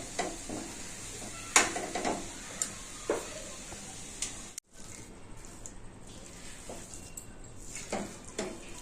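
A spatula stirs and scrapes a curd-based snack dish in a pan, giving soft intermittent scrapes and clinks over a faint sizzle, with occasional quiet talk.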